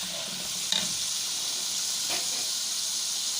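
Tomatoes and salt frying in a pan for a masala: a steady, close sizzle and hiss throughout, broken by two brief scrapes of stirring.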